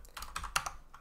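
Quick, light keystrokes on a computer keyboard while coding an Angular app, a short burst of several clicks in an uneven rhythm, close and soft, with no talk.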